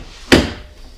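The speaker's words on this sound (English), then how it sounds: "and then if I close this door here" A car door being shut on a project car during an interior swap, one sharp solid thud followed by a short decaying rattle, close and loud against a quiet background.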